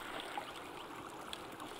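Drinkable stream of water in the survival video game Sons of the Forest, a steady, soft trickling flow with no voices over it.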